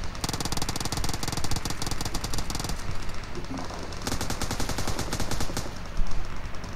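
Automatic machine-gun fire in PUBG rattles in long, dense, rapid bursts that run almost nonstop, loud and close, with brief dips between volleys.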